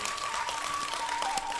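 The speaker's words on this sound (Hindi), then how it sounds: "एक बार इनके सम्मान में ताली बजा दें।" An audience at a Hindi poetry gathering (kavi sammelan) gives a quick round of applause, dense steady clapping for under two seconds with a faint tone running underneath.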